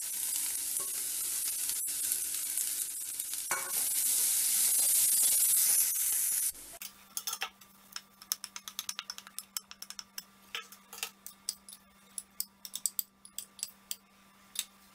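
Onion and carrot sauté in a pan for rava kara puttu: a loud, continuous sizzle fills the first half, then gives way to quieter frying broken by sharp, irregular stirring clicks and scrapes.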